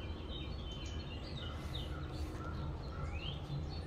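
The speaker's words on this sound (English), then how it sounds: "They even have little bird noises and people talking in the background." Recorded bird calls play inside a general store at a historic village restoration, faint chirps scattered over a steady murmur of background noise throughout.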